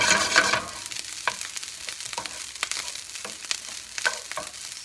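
Fried rice being stirred in a hot pan: steady sizzling broken by repeated scraping strokes at an irregular rhythm, close and fairly loud, with no talking.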